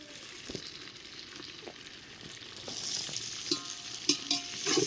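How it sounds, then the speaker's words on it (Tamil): Mint and onions sautéing in a pot over a wood fire for dum biryani outdoors, a soft, even sizzle with occasional scrapes and clinks of a ladle stirring that grow louder toward the end. "புதினா வெங்காயம் இதெல்லாம் போட்டு இப்போ வதக்கிட்டு இருக்கோம்"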